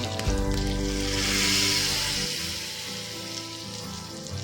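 Curry leaves hit hot oil for an idli sambar tempering, giving a loud, bright sizzle that swells to a peak and then eases into a steady, softer crackle with the burner off.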